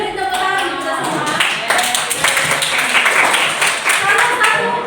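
A room of participants at an Indonesian school coaching session claps together in a brisk, steady round of applause that holds for several seconds, with voices murmuring underneath.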